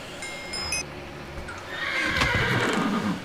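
A horse in the Minecraft Hexxit video game gives a loud close neigh with a whinnying tremble, followed by hoof clip-clops and rustling movement.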